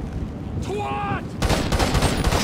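Gunfire in the Grand Theft Auto 6 video game: a burst of rapid, loud shots fires close by in the second half, preceded by a brief voice-like tonal call.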